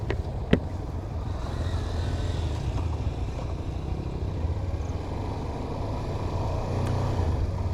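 A group of 300cc CFMoto motorcycles rides on a road from Rangpur toward Bogalek, producing a steady, loud engine drone mixed with wind rush that holds evenly throughout, with one sharp click near the start.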